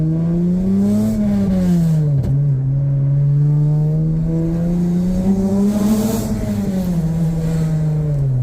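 An Acura TL SH-AWD with a busted exhaust revs loudly, its engine drone rising and falling in two swells with a brief sharp blip in between, heard close and alone.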